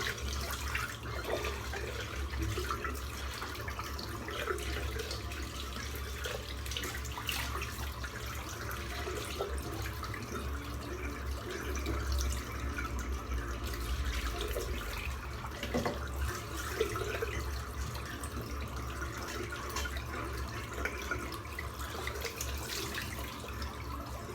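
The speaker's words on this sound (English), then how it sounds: "Just going to rinse that soap out." A shaving brush gets its soap rinsed out under a running tap, a steady continuous stream of water splashing into a sink with faint drips, moderately loud and close, with no talking.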